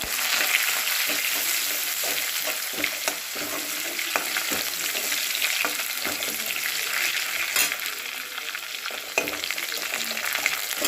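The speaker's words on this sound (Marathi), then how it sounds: "चला लसूण परतवला आपला." Coarsely crushed garlic frying in hot oil with cumin and sesame already crackling, a dense, loud, continuous sizzle with sharp pops and occasional stirring scrapes, close by and with no talking.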